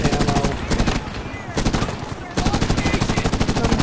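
Rapid automatic gunfire from the 2010 game Medal of Honor comes in close, loud bursts, with short pauses between the strings of shots.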